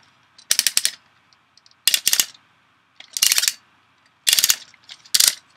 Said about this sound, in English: this guy has so many ratchet joints